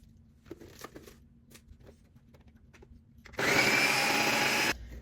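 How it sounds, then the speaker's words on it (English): Food processor whirring loudly as it chops onion, culantro and cilantro for Dominican sofrito, a steady motor roar starting abruptly and cutting off after about a second and a half, preceded by faint kitchen clatter. "we're going to use the food processor now"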